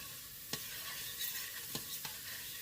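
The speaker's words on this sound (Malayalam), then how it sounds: "നല്ലപോലെ നമുക്കിതിനെ വഴറ്റണേ." Ginger, green chili and onion sauté in a pan for chickpea curry, a soft steady sizzle with three brief spatula scrapes, fairly quiet and close.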